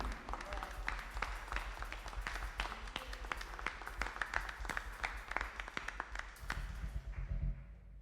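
Congregation clapping for Jesus during a French church family evening service, a sustained patter of hand claps filling the space, with sharper individual claps standing out and a low hum underneath, ending in a brief lull.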